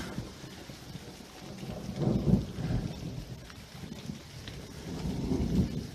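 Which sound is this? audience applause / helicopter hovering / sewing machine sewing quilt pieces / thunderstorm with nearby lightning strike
thunderstorm with nearby lightning strike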